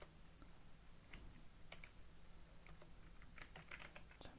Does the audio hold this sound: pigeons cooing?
no